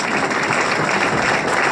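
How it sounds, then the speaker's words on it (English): Audience applause at a race team announcement, a dense, steady burst of many hands clapping at close range, with no talk over it. "We want to give them an applause."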